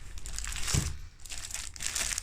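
Sheets of colored paper are handled close by, giving continuous crinkling and rustling with a brief louder crumple partway through, without talk.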